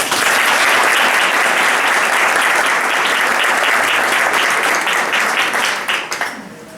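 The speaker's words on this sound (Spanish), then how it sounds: "Démosle una cálida bienvenida a través de nuestros aplausos." Audience applause welcoming the oratory club of the Ateneo de Chiclana at a speech night, a loud, dense wash of clapping that holds steady for several seconds before tapering off at the end.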